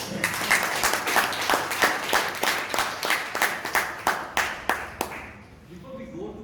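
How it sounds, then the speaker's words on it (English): A Toastmasters meeting audience in Bangalore claps in a fairly rhythmic, loud group applause that thins out and stops near the end, leaving a quiet room with faint voices. "Again, we'll give a big round of applause."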